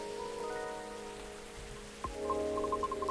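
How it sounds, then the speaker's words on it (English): Steady rain ambience for a rainy Seattle scene in the video game Coffee Talk, a soft continuous patter under a quiet sustained musical drone, with a small knock midway and light tonal plinks toward the end. "Is it the rainy weather that's giving it away?"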